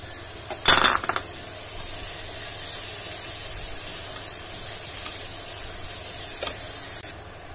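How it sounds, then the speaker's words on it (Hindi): Mango is mashed in a hot pan for a gujiya filling. A sharp metal clatter of the utensil comes early, then stirring scrapes run over a continuous sizzle. "अब ये मैंगो को मैंने पूरा इसमें मैश कर लिया है"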